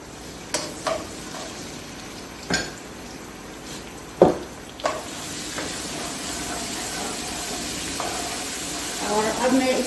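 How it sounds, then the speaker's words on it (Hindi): Garlic frying in a pan for beef karahi, a soft sizzle broken by several sharp clinks of a utensil against the pan, with someone speaking over it. "इसको थोड़ा सा मैंने फ्राई करना है"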